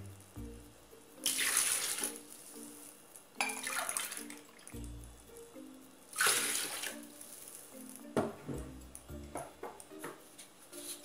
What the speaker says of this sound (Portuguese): Vou colocar também 2 copos de água.